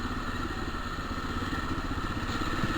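Up close, a motorcycle with a troublesome gearbox keeps running in a steady, loud churn with constant clattering and faint crackles threaded through the engine note.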